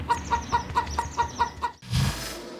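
A small, oddly crossbred bird clucks like a chicken in a quick, even series of about eight close, loud clucks, followed by a brief lower, harsher call.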